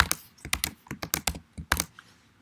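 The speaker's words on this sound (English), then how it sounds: "that I'm typing it correctly" Fingers type a password on a computer keyboard in quick, uneven bursts of crisp clicks, about a dozen keystrokes close to the microphone with no talking.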